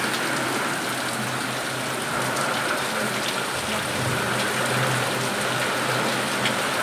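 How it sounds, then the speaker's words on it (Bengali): Heavy rain pours down steadily in a dense, continuous hiss, with a low rumble beneath; no voices. "আবার এই বৃষ্টি দেখো আর ওই ফিটফিটেও বৃষ্টি নয় একদম ঝেপে বৃষ্টি নেমে"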